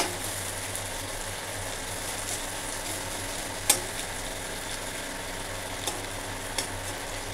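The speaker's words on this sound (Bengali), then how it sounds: "এইভাবে আস্তে আস্তে এগুলোকে আমি মুচমুচে করে ভেজে নেব" Sliced bitter gourd fries slowly in oil toward crispness, giving a steady, moderate sizzling hiss with a couple of brief clicks partway through; no voices.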